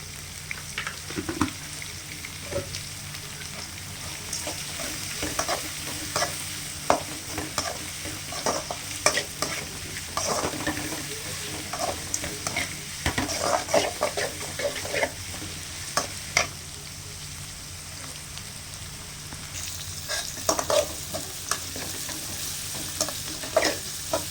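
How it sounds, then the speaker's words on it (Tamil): Onions with a pinch of rock salt fry in a pan for a street-stall poori masala, a constant sizzle punctuated by repeated spoon scrapes and stirring knocks, heard close with no speech. "இந்த வெங்காயம் வதங்கிறதுக்கு வேண்டி நம்ம லைட்டாக உப்பு போட்டுக்கலாம் கல்லுப்பு தான் சேர்க்குறேன்"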